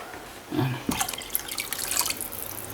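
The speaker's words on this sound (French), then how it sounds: "On met 3 tasses d'eau." Water pours from a cup into a pot of lasagna sauce, a short splashing and gurgling burst over a quiet kitchen background.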